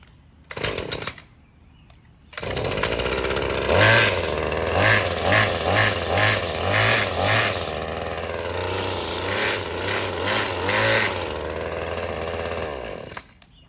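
The small two-stroke engine of an Echo SRM 2620T string trimmer with a faulty drum clutch starts with a brief burst, then runs loudly, revving up and down repeatedly in a rhythmic pattern before cutting out.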